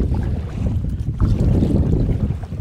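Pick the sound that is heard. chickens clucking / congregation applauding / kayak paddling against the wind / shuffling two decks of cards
kayak paddling against the wind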